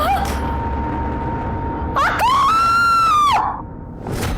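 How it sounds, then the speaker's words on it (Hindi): A woman screams once in a dramatized crime scene, a sustained, wavering cry lasting over a second that rises sharply and then breaks off, over a faint steady background tone. "हम भी इनकी चीख सुनकर ही आए थे।"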